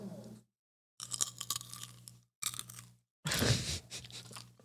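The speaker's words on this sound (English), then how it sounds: "I don't want to hear you chewing." Crunchy popcorn chewed close to the mic in several bursts with short silent gaps, loud wet crunches and a steady low hum underneath.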